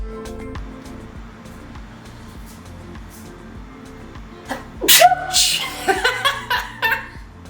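A loud sneeze bursts out, followed by laughter and chuckling from nearby people over a low engine rumble.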